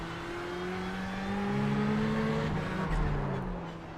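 A Ford GT or Ferrari 488 GTE race car engine in iRacing, steady and loud, revs holding then dropping as it downshifts into first gear for a turn, with rising and falling engine tones and no talk.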